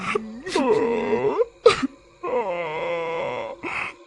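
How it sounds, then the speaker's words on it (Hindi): A woman's drawn-out wailing cries, two long sobbing moans separated by sharp breaths, loud and close. "मुझे अचानक किसी औरत के रोने की आवाज सुनाई पड़ रही थी"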